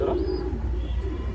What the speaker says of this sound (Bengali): আমার এখানে অনেক পুরনো কবুতর